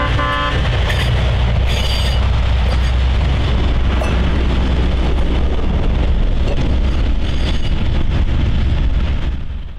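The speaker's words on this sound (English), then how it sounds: "the ANB crew eased their train onto the I&O main line" An Adrian & Blissfield Railroad freight train, hauling covered hoppers, eases onto the I&O main line with a loud, steady rumble of wheels and cars, a brief horn toot near the start, continuous and close.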